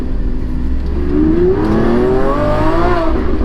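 A 759 hp V12 Lamborghini Aventador SVJ Roadster accelerates under heavy throttle, its engine note rising steadily in pitch over a few seconds, loud and continuous with wind and road roar beneath.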